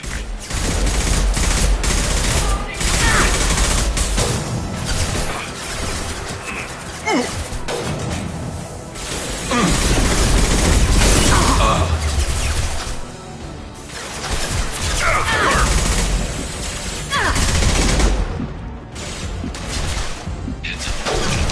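Sniper and weapons fire in a Mass Effect 2 combat scene, loud repeated gunshots and bursts crackling over a dense battle din, with sharp impacts and occasional crashing debris throughout.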